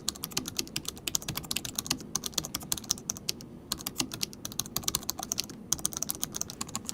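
Steady, rapid clickety-clack typing on an Acer Nitro 5 AN517 gaming laptop keyboard, dense key clicks in quick irregular runs with brief pauses, close and alone.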